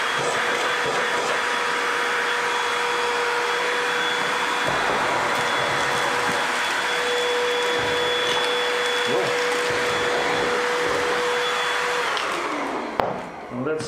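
A handheld vacuum cleaner runs steadily at close range with a sustained whine and broadband roar while sucking at a bolt, then cuts off near the end and spins down.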